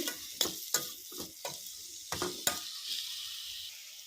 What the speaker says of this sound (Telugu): దోసకాయ వేసుకొని కొంచెం మూత పెట్టుకుంటే తొందరగా మగ్గిద్ది